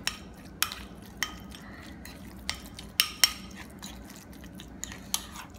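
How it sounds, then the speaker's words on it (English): Tuna is mixed with mayonnaise in a bowl; a utensil clinks and scrapes against the dish in a steady series of sharp taps about every half second, close and clear, with no voices. "So mix the tuna with mayo."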